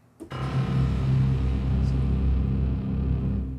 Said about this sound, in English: Now, the distorted bass sounds like this.